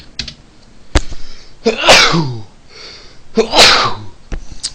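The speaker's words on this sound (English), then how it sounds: "I think I'm gonna sneeze soon." Two forceful sneezes, each preceded by a sharp intake of breath, with a few faint clicks between them.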